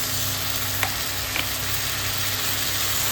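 Egg chicken chowmein with green chili sauce sizzling steadily in a pan, a continuous loud frying hiss with a couple of faint clicks, no voices.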